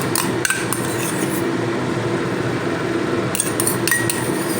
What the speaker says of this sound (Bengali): আমি এক চামচ দই একটা বাটির মধ্যে নিয়ে ফাটিয়ে নিচ্ছি